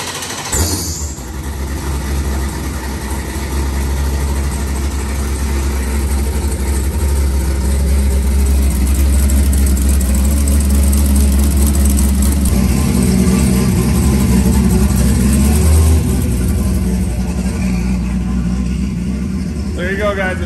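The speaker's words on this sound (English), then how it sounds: "Fire back up, get some oil through this thing." A race car engine built on a Dart block idles at night during race week. It holds a loud, steady, deep rumble close by for the whole stretch, with slight changes in tone.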